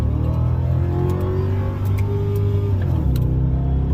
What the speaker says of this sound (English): See how I'm hitting the gas and it's revving up